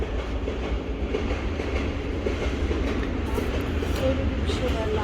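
A train passing by a garden, a continuous loud rumble with rolling wheel clatter filling the whole stretch, with faint voices underneath.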